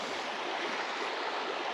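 Babbling brook beside a river at an autumn campsite, a steady close rush of flowing water, even and continuous with no voices.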